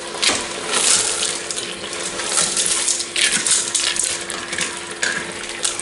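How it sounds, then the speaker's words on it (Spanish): About 300 grams of dry macaroni pour into a pot in a bright, rattling clatter of hard pasta pieces, close and loud, with scattered clinks throughout. "Echamos los macarrones, los 300 gramos de macarrones."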